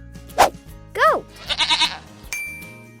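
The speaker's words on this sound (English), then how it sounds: "Goat." Several goat bleats from a children's farm-animal learning game, short wavering cries spaced across a few seconds with a brief chime-like tone near the end, nearby and clear with no talking.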